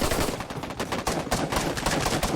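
Rapid gunfire from players in the video game Operation: Harsh Doorstop, a dense string of sharp close shots in quick bursts filling the whole moment with no talk.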